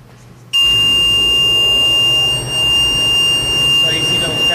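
After a moment of quiet, a carbon monoxide alarm being tested in an apartment building starts suddenly and holds one shrill, continuous high tone. It is loud and sounds nearby.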